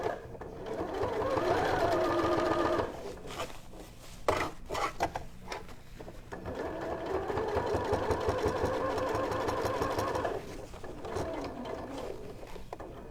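A sewing machine stitches the elastic waistband of a woven skirt, a close steady mechanical whir running for long stretches with a brief pause and clicks in the middle before resuming.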